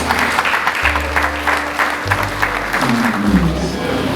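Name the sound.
audience round of applause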